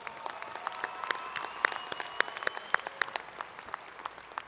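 An audience at a university commencement ceremony applauds the honors candidates, a continuous, fairly distant patter of many hands clapping with no voices.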